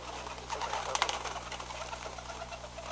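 Pigeons in a loft shuffle, flutter and coo softly, with scattered light pattering and wing sounds over a constant low electrical hum, no speech.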